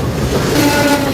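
A train rolls along the tracks at a country station, a steady dense rumble with continuous rail noise filling the whole moment.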